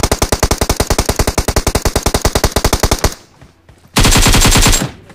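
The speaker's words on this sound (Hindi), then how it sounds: "बंदे ने तब तक गोली चलाई जब तक मेरे 2 नंबर की पेटी नहीं बन गई।" Rapid, evenly spaced automatic gunshots in the video game BGMI (PUBG) fire in a long sustained burst, then a short pause and another loud, dense burst of shooting.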